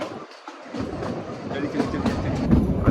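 Rumbling, rattling rail noise of the Kalka-Shimla heritage toy train rolling along the tracks toward a tunnel, heard from inside a carriage, growing louder and rougher.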